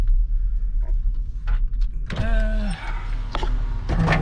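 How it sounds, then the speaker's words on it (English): A car power window rolls down inside a hot third-generation car being prepared for a car show, a motor whine lasting under a second after a few soft interior clicks and knocks, close and clear. "Roll the window down."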